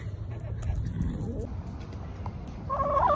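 Backyard chickens cluck and gobble-like calls rise nearby, heard under people talking close by, with a clearer burst of clucking near the end.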